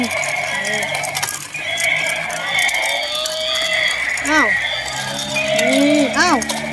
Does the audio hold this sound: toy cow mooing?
yes